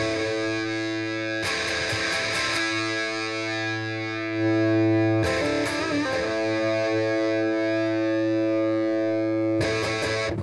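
Electric guitar played through a modded JCM 800-style tube amp with an added mid sweep, giving sustained distorted chords with a steady droning tone, struck again in short strummed bursts every few seconds, loud and alone.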